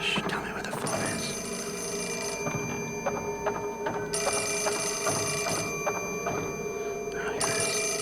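A telephone in the Fatal Frame 4 horror game rings in repeated electronic bursts with short gaps, steady and prominent, under faint background ambience.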